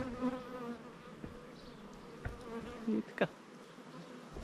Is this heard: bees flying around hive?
yes